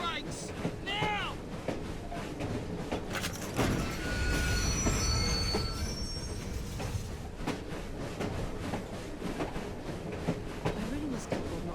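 Train in Assassin's Creed Syndicate braking, with high metallic wheel squeals rising over a rumbling, clattering rail noise that swells in the middle and continues steadily, voices faintly mixed in.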